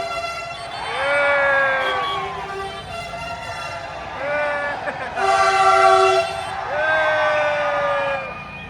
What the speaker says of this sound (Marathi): बघितलं का मोनोरेल वारीने हॉर्न वाजवला मोटरमॅननी.